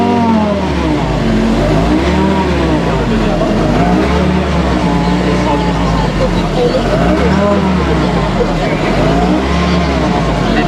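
A Lancia Delta Integrale engine fitted with both a turbo and a supercharger revs loudly and steadily. It is near and continuous, with rising and falling engine harmonics throughout.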